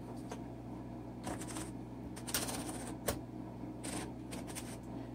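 Keys strike irregularly on a 1951 Smith Corona Silent vintage typewriter, producing soft, muffled clacks in small bursts over a steady low hum, with no talking.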